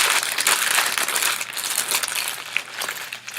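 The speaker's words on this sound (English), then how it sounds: "And you're going to crumple that up" Newspaper crinkles and crunches as it is scrunched up by hand, a close, irregular rustle lasting a few seconds.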